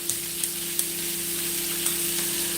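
Cooking oil hisses and sizzles steadily in a frying pan, a continuous bright crackle with a few sharp pops near the start and a low steady hum beneath, no voices.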